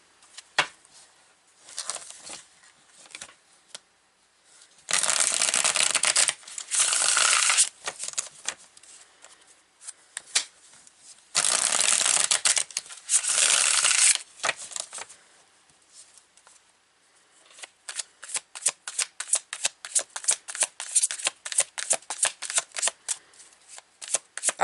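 A Healing Light oracle card deck is shuffled up close in two long, dense riffle bursts, set among scattered card taps and handling clicks, then a fast run of crisp individual card snaps.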